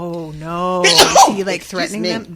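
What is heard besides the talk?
sneeze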